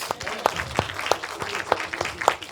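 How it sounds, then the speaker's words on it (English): A church wedding congregation claps in praise in a loose, steady rhythm of sharp individual claps, fairly close and distinct, with a few faint voices underneath. "Let's give the Lord a clap of praise."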